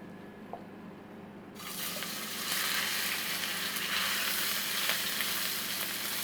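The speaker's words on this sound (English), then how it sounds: "we have a pan here with a little bit of oil, and we're going to add our beef that we have marinated" Marinated beef drops into a pan with a little oil and bursts into loud, steady sizzling that jumps in abruptly after a quieter moment and continues up close without pause.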